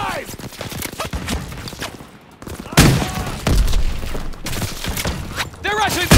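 Dense gunfire in a World War II battle in Call of Duty WW2, with repeated shots and bursts layered over shouted voices and chaotic combat noise throughout.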